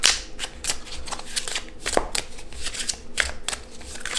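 Tarot cards are shuffled by hand in quick repeated riffling strokes, a crisp papery flutter that is close and continuous over a few seconds.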